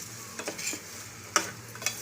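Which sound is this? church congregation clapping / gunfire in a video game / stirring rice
stirring rice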